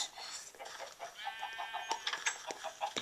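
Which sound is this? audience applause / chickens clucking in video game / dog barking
chickens clucking in video game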